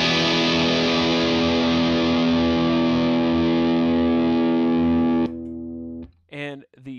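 Electric guitar through a Bearfoot FX Dyna Red Distortion 3-knob pedal rings out as one loud, sustained, saturated chord that cuts off abruptly, followed by brief speech.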